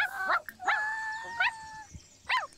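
A dog in The Sims 4 whimpers and whines in short, high, tonal bursts, four cries spaced across the moment, fairly close and clear with no talking over them.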